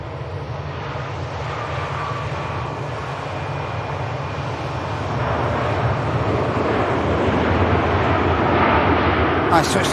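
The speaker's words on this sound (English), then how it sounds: "Nice touchdown from the Aer Lingus 320." An Aer Lingus A320 airliner landing at Manchester Airport in the rain, a sustained engine roar that grows louder toward touchdown, close and continuous.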